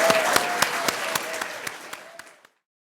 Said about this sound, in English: I think Bob deserves 6 rounds of applause here.